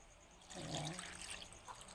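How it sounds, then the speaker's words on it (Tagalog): Second-press coconut milk, thin and watery, being poured into a cooking pot for string beans, a short soft splashing trickle that swells briefly and then continues as a light dribble. "Ang uunahin kong ilagay yung pangalawang gata."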